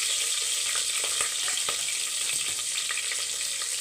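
Curry leaves and green chillies frying in hot oil, a close, continuous crackling sizzle peppered with sharp pops and spits throughout.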